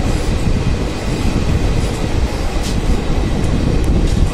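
Passenger train rolling into Rampur Junction, a steady loud rumble of wheels and carriage noise heard from inside, with faint clicks and no talking.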